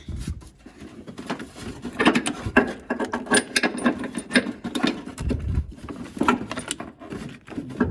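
Ratcheting and clicking of a hand tool tightening a car battery into place, a quick series of close metallic clicks and clanks in an uneven rhythm with short pauses.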